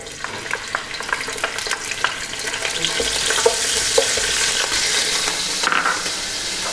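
Spring onion whites dropped into a hot pan for fried rice, frying with a bright crackling sizzle while being stirred, scraping clicks rising over a dense hiss.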